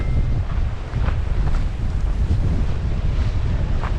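Strong gusting wind buffets the microphone at an outdoor campsite with tents pitched, a loud, continuous roar that swells and dips for a few seconds.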